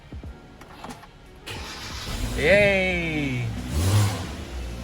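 A car engine cranks and catches after a jump start, revving up briefly, while a nearby voice cheers over it.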